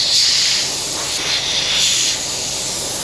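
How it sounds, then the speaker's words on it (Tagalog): Steady broadband hiss of compressed air escaping from a leak on a Peterbilt truck, loud and close, continuous throughout with slight swells in level. "Ayun pala ang singaw."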